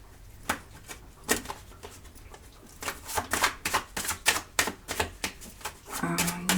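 Playing cards shuffled for a tarot-style card reading, with a run of crisp riffling bursts and slaps in quick irregular rhythm, close and clear, with no talking.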